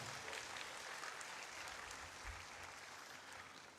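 An audience applauds at a felicitation programme for MBOSE toppers at the Meghalaya Education Symposium 2023, a dense, steady roar of clapping filling the hall throughout, with no speech over it.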